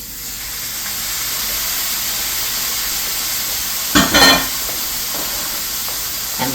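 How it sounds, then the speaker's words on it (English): Artichoke hearts and red pepper sizzle in a buttery pan, giving a steady, close hiss throughout with a brief clatter of stirring partway through and no talk. "it's got a nice sizzle going, so I'm going to add my artichoke hearts and my red pepper"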